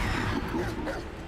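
A brief yip or bark from a dog in the video game Hogwarts Legacy, somewhat muffled within a busy electronic soundscape.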